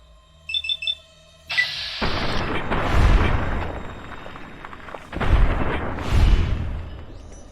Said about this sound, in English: Good thing this neighborhood doesn't mind gunshots.